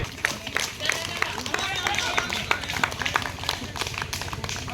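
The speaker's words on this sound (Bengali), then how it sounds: "এলাকাবাসীকে বলছি একটু হাততালি দিয়ে।" Spectators clap for marathon runners at a Durga Puja festival race, with irregular, fairly close applause and running footsteps amid crowd babble and voices.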